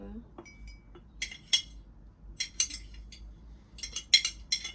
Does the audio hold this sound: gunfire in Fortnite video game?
no